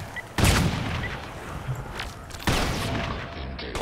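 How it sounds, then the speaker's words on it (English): Incoming gunfire aimed at the player in the shooter game Crysis: two sharp, loud bursts of shots about two seconds apart, each trailing into a rattling echo over a noisy battlefield background. "Where the fuck are you shooting me from?"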